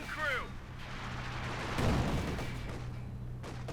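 Obersoldaten rifle fire in Company of Heroes 2, with heavy battle reports and rumbling explosions over a steady low hum while a voice talks throughout.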